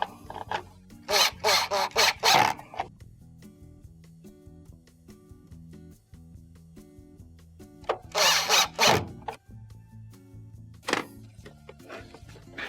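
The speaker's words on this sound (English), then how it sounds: "Next, install your first screw. Followed by the other 2." A power driver runs screws into a Frigidaire washer's lid lock assembly: two separate whirring bursts, each about two seconds long, then a brief third, loud and close, with quiet pauses between them.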